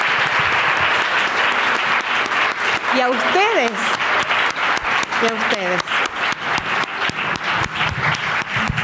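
Audience at a talk applauding, a loud sustained round of clapping with someone speaking briefly over it midway.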